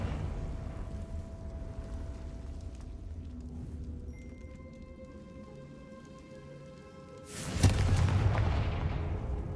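A Confringo fire spell blasts in Hogwarts Legacy: a sudden loud booming burst near the end breaks a steady rain-like game ambience, with a rumbling roar that trails off afterward.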